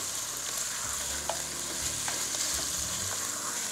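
Lamb pieces for Irish stew sizzle and brown in a pan, a continuous bright frying hiss with occasional light stirring scrapes and pops, no voices.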